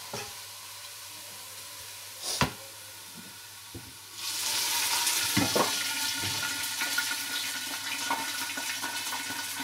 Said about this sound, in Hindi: अब मैं थोड़ा सा पानी डालूँगी, इसका कलर आ जाए।